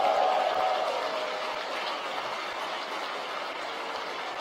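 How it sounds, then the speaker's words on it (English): Applause in SpaceX Mission Control after Falcon 9 stage separation, a dense, steady wash of many hands clapping at once, heard at a distance as a soft, even hiss that slowly fades. "You can hear the applause from Mission Control."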